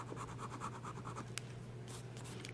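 A fountain pen with a medium, wet nib scratches softly across paper in short strokes, faint and close, over a steady low hum.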